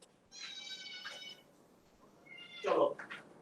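A kitten meows twice, a drawn-out cry and then a louder, sharper one, close by and indoors.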